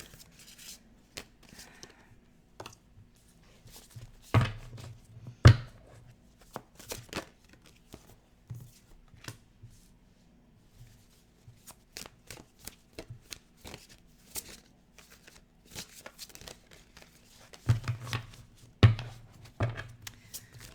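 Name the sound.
shuffling a large deck of cards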